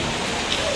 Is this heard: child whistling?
no